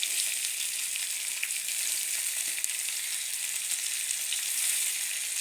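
Two chicken pieces fry in a pan on a medium-low stove, giving a steady, even sizzle that holds close and loud from start to finish, with no talk over it.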